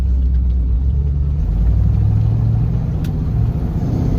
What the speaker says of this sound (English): there's the really sweet induction noise